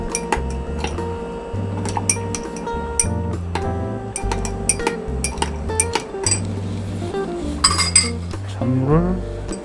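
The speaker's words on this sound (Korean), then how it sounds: "이렇게 해서 섞어주죠" A spoon clinks sharply against a glass while stirring iced tea, a dense run of bright ringing taps and rattles over a low hum, with some voice in the background.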